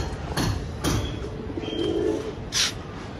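Pigeons coo softly at a rooftop loft while waiting for birds to land, with a few low murmuring calls and brief flutters and clicks over quiet outdoor background.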